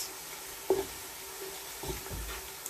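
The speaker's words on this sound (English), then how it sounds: "So now I'll be adding my tin tomatoes" Tinned tomatoes tipped into a hot pan of Nigerian party jollof rice base land with a sudden wet splash, then soft sizzling and a couple of stirring scrapes follow at low volume, with no talking.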